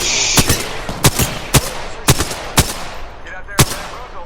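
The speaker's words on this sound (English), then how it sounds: "Shots fired, and they're hit." Gunfire in Apex Legends: about seven sharp, loud shots crack out at roughly half-second intervals, each a distinct punchy report, with a faint background bed between them.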